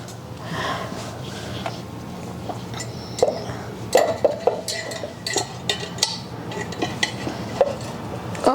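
Cast iron pans being handled and knocked together, giving a series of sharp metallic clinks and clanks that grow busier midway, over a low background rumble.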